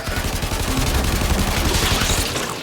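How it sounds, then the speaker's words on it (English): Weapon fire in Warframe, aimed at a hive: a sustained burst of rapid, loud shots with heavy low thumps, close and continuous for the whole moment. "Destroy it with weapon fire."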